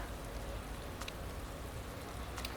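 Steady rain in the racing management game Motorsport Manager, a soft continuous hiss of falling drops with a couple of faint brief clicks, no voices.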